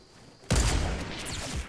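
A sniper rifle shot in Fortnite Battle Royale cracks suddenly after a quiet moment, loud and close, followed by a rumbling echo that fades slowly.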